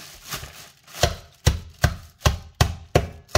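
Repeated sharp pounding thuds at a steady pace, about seven hits, close and fairly loud, as cashew nuts are cracked on a padded surface.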